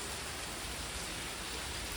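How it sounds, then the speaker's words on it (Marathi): Heavy rain pours down in a dense, unbroken hiss that stays loud and steady throughout, with no voices or other distinct sounds. "पाऊस खूपच पडालाय."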